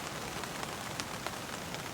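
Steady, dense rain patters on a hot tent that has a wood stove burning inside, a continuous soft hiss with occasional slightly sharper drops and no voices.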